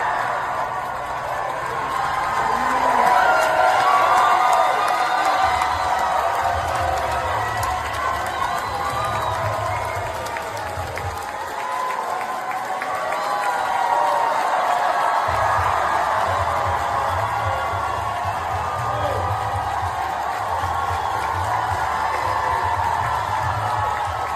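A crowd of about 2,000 people cheers and shouts at a Bernie Sanders rally in Omaha, a sustained roar of voices with whoops and applause throughout.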